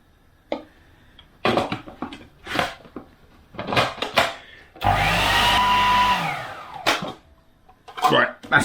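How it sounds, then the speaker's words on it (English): A blender whizzes red pesto with olive oil in one steady, loud burst of about a second and a half. A cook talks and a few kitchen clatters are heard before and after. "Lid back on and give it another whiz."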